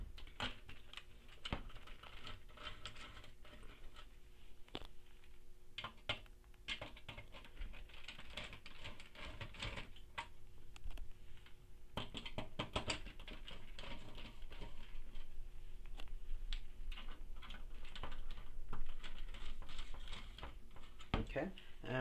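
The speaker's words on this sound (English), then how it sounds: "Alright, so remove those four screws." Small screws are worked out of a Prius/Tacoma GPS DVD drive, giving faint scattered clicks and light metallic ticks in an irregular patter, close but quiet, with intermittent speech under them.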